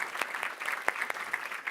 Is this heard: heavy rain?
no